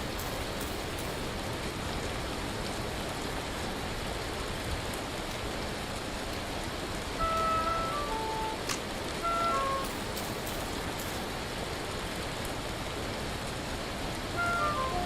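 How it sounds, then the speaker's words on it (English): Hail pelting down in the survival video game Vintage Story: a dense, constant rain-like hiss of impacts that fills the scene evenly, with a few faint tonal blips now and then. "Ignore the sound of being bludgeoned to death by hail"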